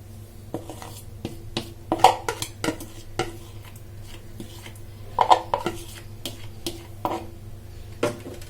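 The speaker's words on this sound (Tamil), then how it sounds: "போட்டுட்டு இதையும் நல்லா மிக்ஸ் பண்ணிக்கலாம்" Utensil stirring onion and egg into a batter in a bowl, giving irregular scraping and clinking taps against the bowl over a steady low background hum.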